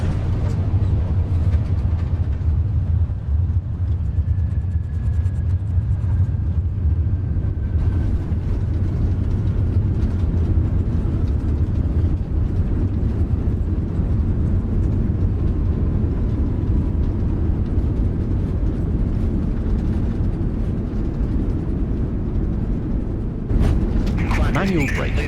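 A Qantas Airbus A380 rolls out after landing in Flight Simulator 2024: a loud, steady, low rumble of engines and runway roll continues throughout, with voices talking over it.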